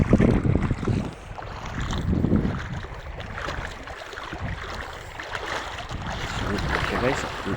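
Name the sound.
strong river current while wading across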